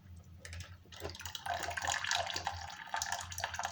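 Water rushes and gurgles into a newly fitted siphon, a close, fluctuating flow that swells after the first second and keeps running unevenly to the end.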